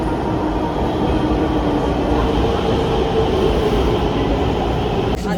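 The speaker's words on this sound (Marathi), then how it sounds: "सो आता आम्ही चाललोय पुण्याच्या मेट्रोने." A Pune underground metro train at a station, a loud, steady rumble and rolling hum close by throughout, with a brief rattle at the end.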